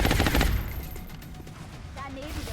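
A gunner firing twice in XCOM: Enemy Unknown, a loud burst of gunfire at the start that decays into a lingering rumble with faint mechanical tones.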